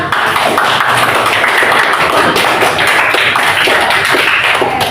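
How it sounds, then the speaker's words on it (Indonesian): A classroom of students applauding, a dense, steady, loud patter of many hands clapping together with no break. "Boleh beri tepuk tangan."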